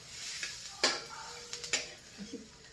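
Peanut chutney being dry-roasted and stirred in a pan, with a soft continuous sizzle broken by a few sharp scraping clinks of a spatula against the metal, close and fairly quiet.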